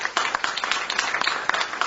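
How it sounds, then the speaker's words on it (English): An audience applauds a man who drove in from Delaware, at a People's Power Tour gathering in Baltimore; dense, steady clapping from many hands fills the whole moment at moderate volume. "Can you give him a round of applause?"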